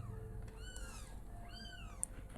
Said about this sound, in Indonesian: Kalau kamu dengar suara anak kucing, Pratyahara itu kucing aku ya